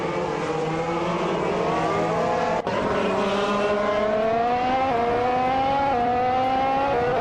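Race cars scream past in a close pack, engine tones rising and shifting as they accelerate, with one brief cut midway and a steady roaring bed throughout, no voices.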